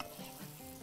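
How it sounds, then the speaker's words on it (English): Steady, dense sizzling of onions sautéing in a hot pan, a continuous crackle with faint stirring, close and moderately quiet, no voices. "So we'll saute the onion first. We'll let it sizzle here."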